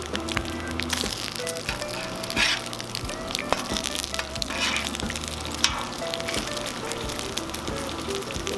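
A chicken sandwich sizzles loudly on a Cuisinart 360 griddle after being flipped, a dense steady frying hiss with crackles and a few scraping clicks, close and continuous with no talking.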